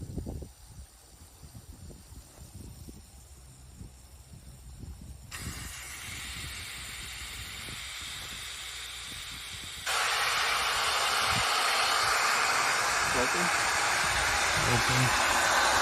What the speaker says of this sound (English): we're gonna have Edmundo open and close the valve